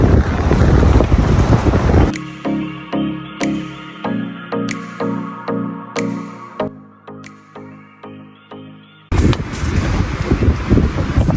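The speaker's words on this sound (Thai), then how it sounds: "ลมแรงมากเลย" Strong wind buffeting the microphone at a beach campsite on the Thai coast, with loud broadband rushing at the start and end and a steadier rhythmic stretch in between.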